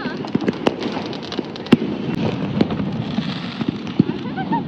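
A rope bomb firecracker, set off by hand, gives sharp cracking pops amid a busy outdoor crowd, with several loud bursts standing out over a steady background of voices and noise.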